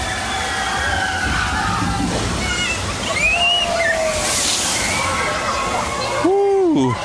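Water sloshes and splashes steadily as the Boston Tea Party water ride at Canobie Lake Park drenches the path nearby, a broad rushing wash with a louder surge near the end, while people talk over it.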